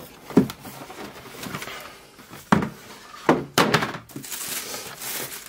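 A cardboard sneaker box being opened by hand gives several sharp thunks and rustles, with knocks near 0.4, 2.5, 3.3 and 3.6 seconds over a soft papery background.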